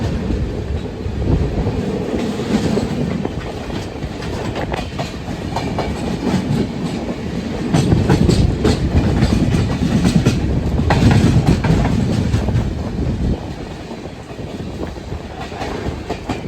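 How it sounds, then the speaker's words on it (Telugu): The Trivandrum–Shalimar Express rolls past close by, a loud, sustained rumble with rhythmic clickety-clack of wheels over rail joints throughout, swelling and easing as the coaches go by. "త్రివేంద్రం షాలిమార్ ఎక్స్ప్రెస్ అండి. ఈ ట్రైన్ త్రివేంద్రం చేస్తుంది షాలిమార్."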